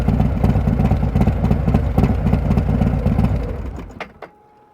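A motorcycle engine runs in gear with a steady, throbbing mid-range drone and rapid pulsing, close and loud, then cuts away near the end, leaving brief clicks and quiet.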